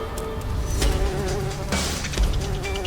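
Honeybees at a hive being raided by a honey badger in the African wild, a dense steady buzzing swarm with a few louder close passes rising over the continuous drone.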